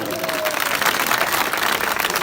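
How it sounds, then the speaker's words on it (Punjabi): A crowd at an outdoor village gathering with a politician applauds, a dense, continuous wash of clapping at moderate loudness, with a brief tonal sound at the start. "ਤਾੜੀਆਂ ਮਾਰ ਕੇ ਹੌਸਲਾ ਵਧਾ ਦੇ"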